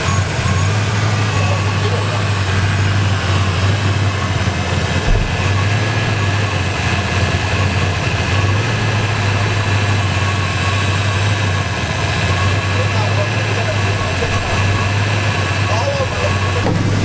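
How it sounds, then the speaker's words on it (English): A Ford Mustang Foxbody engine idling steadily, with a constant low rumble and hum running unbroken close by throughout. "There's coolant in there, and the car's running. You guys can see it's running good."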